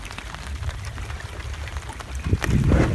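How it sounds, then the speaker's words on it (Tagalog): Steady rain pattering outdoors during a fishing trip, a continuous patter of drops on surfaces with a low rumble and a louder gust of splashing toward the end. "Umuulan kasi."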